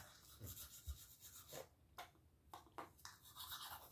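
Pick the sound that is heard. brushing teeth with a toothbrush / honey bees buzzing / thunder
brushing teeth with a toothbrush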